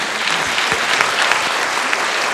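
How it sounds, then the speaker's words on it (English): Audience applause following a California Senate debate, a steady, dense clapping from a crowd that fills the whole moment without any speech over it. "Let's give him a round of applause."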